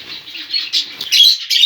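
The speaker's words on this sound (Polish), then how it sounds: "Tu zostało kilka zeberek." Zebra finches kept in an aviary chirp in a busy cluster of quick, high, nasal calls close by, with faint rustling of wings and no talk.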